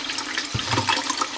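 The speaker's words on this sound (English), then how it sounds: "place it in the sink in some lukewarm water with some mild soap" Water runs into a sink filled with lukewarm water and mild soap for washing deep blue yarn, a steady close rush with a soft splash partway through.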